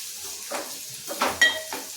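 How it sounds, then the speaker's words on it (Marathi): Onion frying with asafoetida in a pan, a soft sizzle with a few light stirring scrapes and a clink of utensil against the pan, close and moderately quiet. "आणि कांदाही छानपैकी भाजून घ्यायचा."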